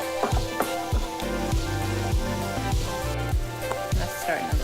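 Brussels sprouts sautéing in olive oil in a pan, a steady close sizzle with repeated sharp clinks and scrapes from a utensil stirring across the pan.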